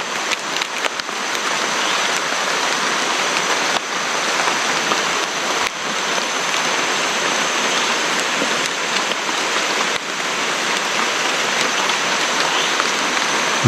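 Steady rain pours down in a hill forest in Sarikei, with a dense, continuous hiss of drops hitting surfaces, close and fairly loud, with no voices.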